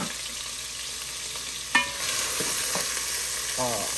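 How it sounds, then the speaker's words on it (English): Chopped peppers and onions sautéing in a pan, a steady close sizzle broken by a sharp spatula scrape and a few lighter knocks. "So get our veggies all sauteed here."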